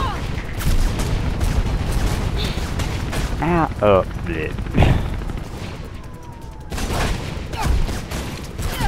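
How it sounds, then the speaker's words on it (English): Gunfire in the parkour game Mirror's Edge, a busy burst of shots and impacts under game clatter, with a voice briefly reacting over it. "Who is shooting at me?"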